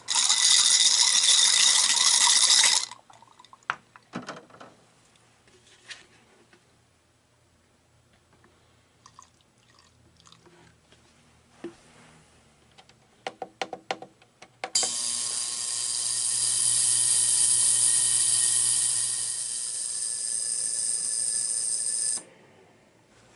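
A tabletop ultrasonic cleaner running on brass in Lemi Shine solution gives a bright, steady high-pitched hum for a few seconds, then stops during a quiet stretch of scattered clicks and handling noises, and restarts with a long, steady high whine.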